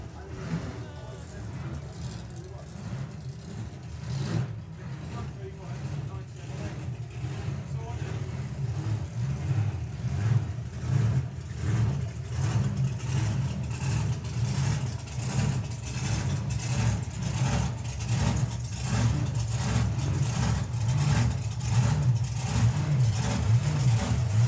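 Supercharged outlaw drag racing cars run at a drag strip during the Sportsman Nationals. A deep, sustained engine rumble builds steadily louder with rapid pulsing, and a voice is heard alongside it.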